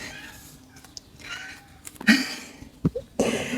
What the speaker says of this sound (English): The background is a cat sound if you hear it.